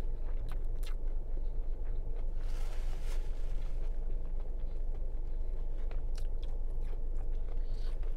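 Someone eats the last bite of a customized Culver's burger, with steady close chewing and soft crunching running through the whole stretch, faint clicks and mouth sounds on top and no talking.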